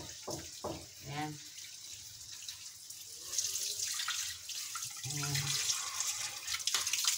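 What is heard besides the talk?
washing string beans under running tap water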